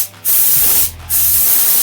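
A spray gun loaded with neoprene contact glue fires two strong bursts of compressed air and product. Each burst is a loud, broad hiss separated by a short pause, with a faint low hum running underneath.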